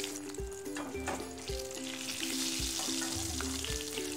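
Eggplant slices coated with salt, turmeric and red chili powder fry in hot oil with a steady, close sizzle throughout and occasional soft knocks and stirring sounds.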